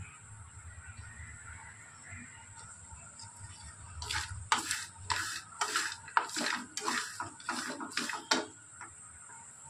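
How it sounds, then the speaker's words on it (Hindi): Cashews, dried coconut, sesame seeds and cumin are dry-roasted in a pan, a quiet start giving way to a run of rapid scraping, rattling stirs against the metal in the second half. "अच्छे से भून लेंगे, काजू भी है, खोपरा है, तिल है, जीरा है, अच्छे से भून लेंगे।"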